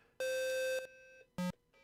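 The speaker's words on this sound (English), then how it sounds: "I love that beep in there." Electronic beeps from an Atari 2600 game of Chopper Command: a sustained buzzy tone, then a short lower blip and a faint trailing note, clear and close with no talk.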